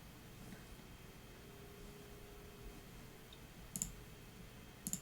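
A few faint, sharp computer mouse clicks, one pair near the end, over a quiet hum at a PC desk.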